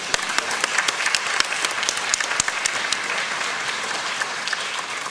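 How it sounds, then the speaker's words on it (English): An audience claps loudly and steadily at a Shakespeare trial event, a dense patter of many hands with no voices over it. "now we're going to applaud"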